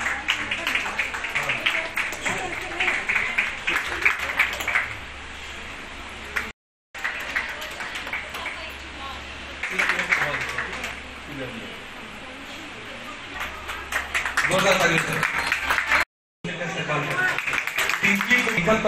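An audience applauds at a ceremony for young women who have completed training: many hands clapping in a dense, sustained wash with speech-like sound in the mix, cut by two brief silent gaps.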